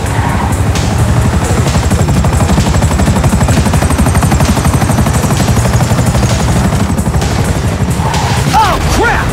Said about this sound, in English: Chopper!